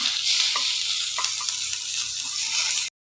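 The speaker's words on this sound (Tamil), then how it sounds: "ஜீரகம் சேர்த்துட்டு இதை நல்லா வறுத்துக்கலாம்" Cumin and other ingredients fry steadily in a pan for a Tamil village-style pirandai leaf chutney, a continuous bright sizzle with occasional soft stirring scrapes, close and loud, cutting off abruptly at the end.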